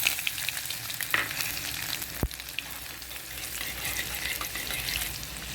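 Cumin, asafoetida and garlic fry in hot oil for a raw papaya bhaji, a continuous close crackling sizzle with one sharp utensil clack midway and no talking.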